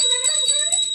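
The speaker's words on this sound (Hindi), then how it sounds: "घंटी बजा घंटी बजा घंटी बजा" A small hand bell rung during evening puja worship at home, a steady bright metallic ringing with sustained overtones and repeated strikes throughout, close and fairly loud, with no talk over it.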